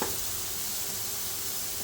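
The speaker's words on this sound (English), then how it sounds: "It's time to bring it to a really sizzling temperature." Curry sauce for chicken madras sizzles loudly and steadily in a pan, a constant frying hiss close by with no talking.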